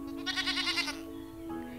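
A cartoon goat lets out a wavering, pulsing bleat over a steady electronic hum, followed by a shorter, fainter bleat.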